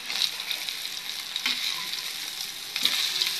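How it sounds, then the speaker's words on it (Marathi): Rohu fish pieces coated in rava shallow-frying in a pan; a steady, close hiss of bubbling oil with occasional louder spatters and crackles, no voices. "हे बघा, छानपैकी आता आपली एक बाजू फ्राय झालेली आहे."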